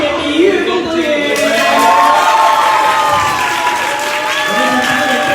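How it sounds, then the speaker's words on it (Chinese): Loud crowd applause and cheering greet director Li Yuefeng at a film premiere press event, with shouts and whoops over steady clapping and voices calling out within the crowd. "那接下来我们要掌声欢迎我们的导演李岳峰导演"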